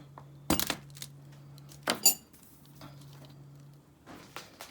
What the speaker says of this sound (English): I am going to take a knife and cut into it